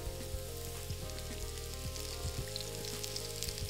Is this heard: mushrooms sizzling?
yes